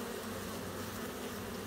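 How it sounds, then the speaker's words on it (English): Honey bees buzzing around an aggressive hive during a late-February check-up, a dense continuous drone filling the air close by, steady and unbroken. "These bees are pretty aggressive."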